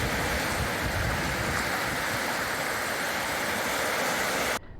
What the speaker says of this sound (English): We can certainly hear the water.